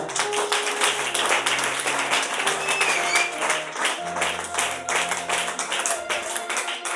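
A church congregation claps and applauds to acclaim the king, steady rhythmic clapping lasting throughout with music tones beneath.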